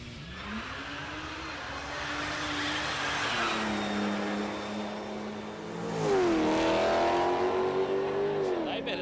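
Dave Rickards' big BA wagon drag car 'Snoozy' revs and accelerates hard down the strip at Palmyra Dragway, its engine note climbing loudly and then surging again, with a commentator talking over it.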